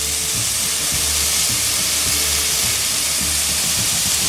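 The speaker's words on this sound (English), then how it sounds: "that's a good fire down there" A cooking fire burns with a loud, steady roaring hiss and a low rhythmic rumble underneath, constant and close with no voices.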